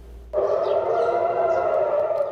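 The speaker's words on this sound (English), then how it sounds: "Air raid sirens sound in Jerusalem and Tel Aviv" Air raid sirens in Jerusalem and Tel Aviv cut in suddenly and hold a loud, steady wailing tone, with no voices over them.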